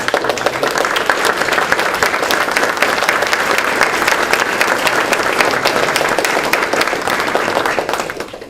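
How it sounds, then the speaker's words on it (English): Sustained audience applause fills a commissioners meeting hall in West New York, a dense, steady clatter of many hands that holds evenly for several seconds before easing slightly at the end. "everyone here should just give a round of applause to the electeds that actually run West New York"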